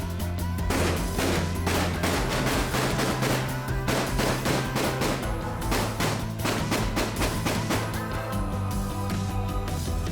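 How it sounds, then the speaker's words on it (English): Gunfire exchanged between police and shooters down a street in Rio de Janeiro's City of God, a loud, relentless stream of overlapping shots and bursts that fills the whole stretch without pause. "The cops return fire down the street when, out of nowhere comes more shooting from the opposite direction."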